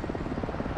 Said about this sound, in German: Nikolai, blockier sie mit dem Heli